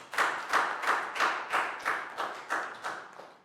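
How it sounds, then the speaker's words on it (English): Schoolchildren in a classroom clap in unison, eight or nine crisp, evenly spaced claps that fall slightly in strength toward the end, close by and without voices. "And a big round of applause for everyone,"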